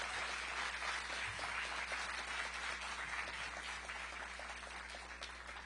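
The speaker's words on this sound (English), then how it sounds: "That deserves a round of applause." Applause from a campaign rally crowd for a senator in Georgia, a steady wash of clapping heard at a distance, sustained and fairly faint throughout.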